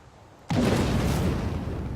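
A bomb explodes in the strategy game Civilization VI: a sudden loud boom that hits at once and then roars on without a break as a sustained rumble.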